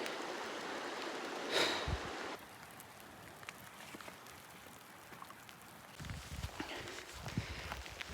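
Fast-running water of Cataract Creek in May, a steady broad rushing hiss that drops away and returns, mixed with footsteps and handling noises close by, with no talk.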